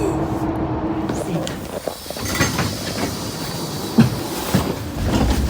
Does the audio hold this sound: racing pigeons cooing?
no